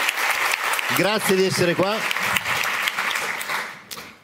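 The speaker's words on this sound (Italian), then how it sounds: "La mia traduttrice, Marzia, un applauso." An audience applauds the translator Marzia at a European culture forum, a continuous wash of clapping heard under a voice speaking briefly in Italian.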